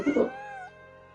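A cat meows once in the Genshin Impact video game, a single clear drawn-out meow up close that trails off against a quiet game backdrop.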